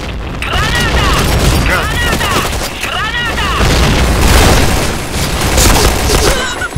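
Loud, dense in-game combat in Point Blank: repeated deep booms of grenade blasts with crackling gunfire, a continuous heavy wall of sound over the whole stretch, with a voice talking over it.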